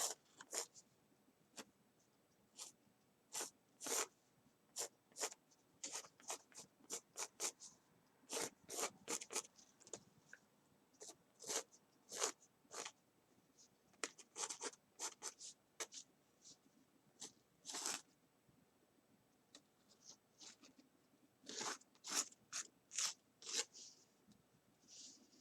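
A pencil moves in light, scratchy strokes on a composition book page, coming in short irregular bursts with quiet gaps between them, close and faint.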